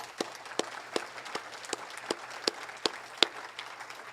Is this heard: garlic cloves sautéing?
no